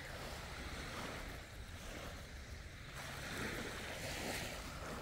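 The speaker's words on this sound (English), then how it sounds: "Beautiful beach, clean and nice." Ocean surf washes steadily onto a New Jersey beach, a continuous broadband roar with wind buffeting the microphone, swelling louder toward the end with no talk.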